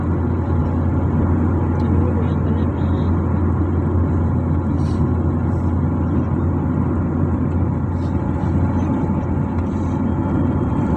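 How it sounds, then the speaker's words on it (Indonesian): A car drives past a house along a toll road in Aceh at night, a steady rumbling engine and tire drone filling the clip from start to finish, loud and continuous. "Tuh ada mobil itu lewat rumah."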